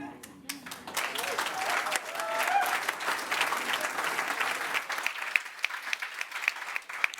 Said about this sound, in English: Round of applause for our second debaters on both sides.